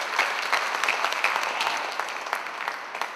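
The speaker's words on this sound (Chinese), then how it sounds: "有玩過玩具拍手，唔該" Audience of children and families clapping at a children's theatre show about toys, a short burst of fairly soft, evenly spread applause with no voices over it.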